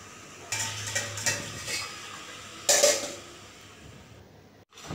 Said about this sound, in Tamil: நடுவில் இதே மாதிரி கொஞ்சம் கிளறி விட்டுக்கோங்க.